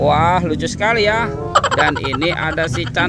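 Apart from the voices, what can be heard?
No distinct noise like a dog, phone or traffic.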